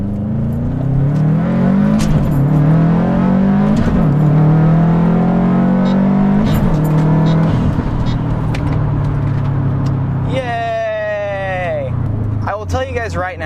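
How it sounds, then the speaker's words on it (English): A manual car accelerates hard on a highway, its engine revving up through several quick gear shifts with brief dips between gears, loud and close throughout, with a higher whining rev near the end. "I'm going to hop on the highway and I'm going to show you guys what quick shifting is all about"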